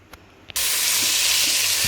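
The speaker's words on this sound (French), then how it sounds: "Je vais la lancer en cuisson pour faire colorer les morceaux." Seasoned veal pieces hit a hot pan and start searing with a sudden, loud, steady sizzle that holds after a couple of faint clicks, with no talking.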